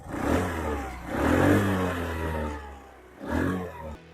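A Hero Xoom 110 scooter engine, 2024 model, revs in three distinct bursts from a low idle, each throttle blip rising and falling close to the microphone with no talk over it.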